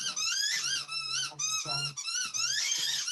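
A dog's squeaky toy squeaks over and over in a quick, uneven series of loud, high, close squeals, with short gaps between bursts.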